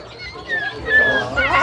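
A dog with dyed fur yips and whimpers in short high bursts amid nearby chatter and background voices at a large Australian market.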